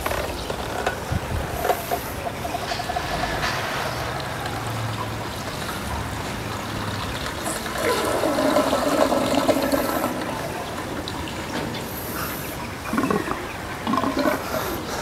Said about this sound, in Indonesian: tinggal buka keran bagian bawah sini, maka nanti kolam akan terhisap